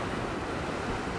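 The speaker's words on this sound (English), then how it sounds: "we can hear the rocks, the waves bashing against the rocks" Waves crash against the rocky coastline at Sant Elm on Mallorca, a steady, dense wash of surf with wind noise and no talk.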